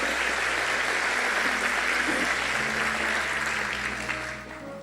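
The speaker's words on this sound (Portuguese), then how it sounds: "Vamos aplaudir ao Senhor" Church congregation applauding during a morning worship service, a dense continuous roar of clapping that holds steady and then tapers off toward the end, with a low hum of instruments underneath.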